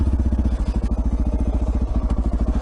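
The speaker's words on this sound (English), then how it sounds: "Turn this bike around." A motorcycle engine idles close by with a steady, rapid low thumping pulse throughout, while the bike is being turned around.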